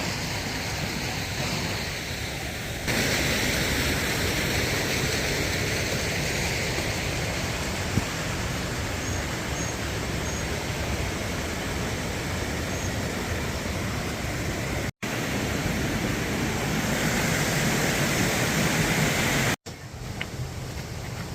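A New Zealand river rushing steadily while someone walks upstream along it, a loud continuous broadband roar of flowing water with some wind buffeting and no talk.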